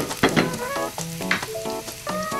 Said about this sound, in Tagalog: Nang haluin ang ating bawang. Hanggang sa mag-brown siya.